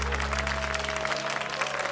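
A studio audience at a televised Korean music show breaks into sustained, dense applause that fills the whole moment at steady loudness, with faint musical tones underneath.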